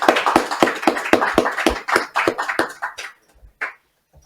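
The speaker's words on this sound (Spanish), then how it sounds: "pido que recibáis con un fuerte aplauso a Luis María Pardo" Studio audience clapping in a television set, a dense run of sharp hand claps that thins into a few scattered claps before fading to near silence.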